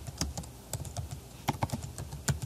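Rapid typing on a computer keyboard, a quick irregular run of light plastic key clicks close by with a few heavier taps, no voices.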